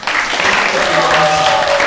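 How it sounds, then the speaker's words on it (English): Steady clapping from a retreat audience after a panel fills the whole moment, loud and continuous, with a voice or cheer carrying faintly over it. "Big round of applause for them."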